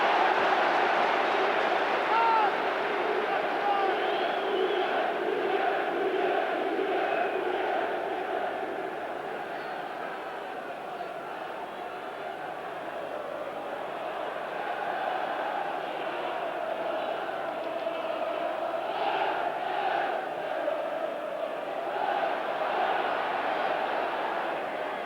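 Football crowd of about 25,000 at Highfield Road, Coventry, during a League Cup semi-final against Nottingham Forest, a steady distant roar and murmur of fans running throughout, under continuous commentary.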